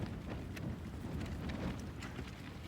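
Strong winter wind blowing outside a Salewa Sierra Leone II tent, a steady broadband rush with low buffeting rumble and faint flapping, continuous and moderately quiet throughout.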